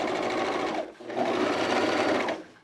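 A sewing machine stitches the hems of a pair of Creston jean shorts, running in two loud, steady bursts with a short pause between them.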